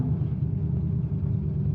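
A drag race car set to launch at 3,400 RPM rumbles nearby with a deep, steady engine drone, low and continuous throughout, no voices.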